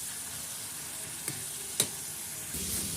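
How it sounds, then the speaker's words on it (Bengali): Ginger and garlic with cumin frying in a pan, a steady close sizzle with a couple of faint clicks as the mixture is stirred. "ভালো করে ভালো করে কষাবো আদা রসুনের যে কাঁচা গন্ধটা যাতে না থাকে"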